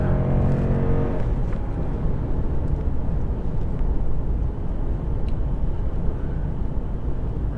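A 2014 Ram HD pickup with the 6.4L Hemi V8, towing trailers in the Rockies, accelerates hard from a standstill. A steady, loud engine roar with rising revs is heard from inside the cab.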